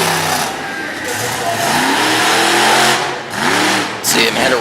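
A monster truck's big engine revs hard through a wheelie run at a competition in Little Valley, New York, loud and continuous with rising and falling pitch sweeps, with crowd and commentary noise mixed underneath.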